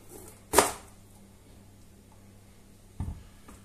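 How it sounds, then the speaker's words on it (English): A knife cuts through a pepper on a board while Spanish sausage and potatoes are prepared, giving one sharp, close chop and a softer second cut about two and a half seconds later, with quiet between them. "I decided to cut it this way today."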